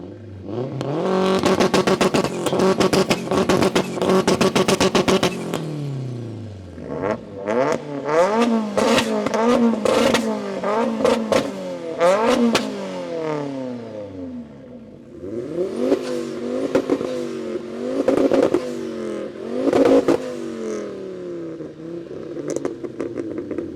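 Tuned hot hatches, a Vauxhall VXR, Ford RS, Honda Type R and VW GTI, rev and accelerate hard in turn, engines climbing through gears with rising whines and brief dips at each shift, loud and close.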